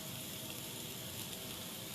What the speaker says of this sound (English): To that we're going to add our onions. See how it's hot? You can hear it sizzle.